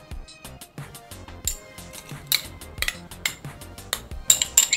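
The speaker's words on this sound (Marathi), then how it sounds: "आपण हे सगळं साहित्य या मिक्सरच्या बोलमध्ये घालूया।" Ingredients such as chana dal, peanuts, coconut, coriander and green chilli drop into a steel mixer grinder jar, making a series of sharp metallic clinks and taps, close and irregular.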